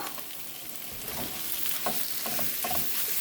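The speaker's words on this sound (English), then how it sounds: "you add in your ground beef" Ground beef fries with caramelized onions in a pan, making a dense, steady sizzle broken by scraping stir strokes now and then, with no voices.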